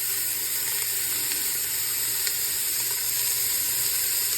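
Onion sautéing in avocado oil in a pot, an even, dense hiss of frying that holds steady throughout with barely any change, close and uninterrupted, no one speaking.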